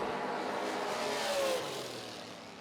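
A dragster launches at a drag race, its engine roaring loud and steady before fading slightly as it pulls away into the distance.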